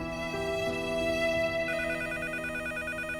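A telephone rings indoors with a steady electronic ringtone whose bright, buzzing repeated pattern shifts partway through, loud and close with no one talking over it.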